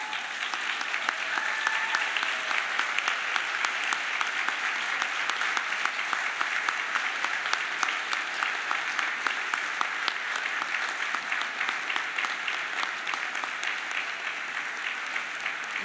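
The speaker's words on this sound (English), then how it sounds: "you will give a big round of applause to all those people" Sustained applause from a large audience, steady and full-bodied for the whole stretch, with no pauses.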